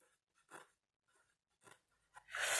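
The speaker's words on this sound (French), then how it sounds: "vous avez les crayons métalliques qui sont marrants parce que sur le noir, je vous montre si je veux écrire stickers" Metallic pencil writing on black paper, a few short faint scratchy strokes with pauses between them, ending in a louder, longer rub close by.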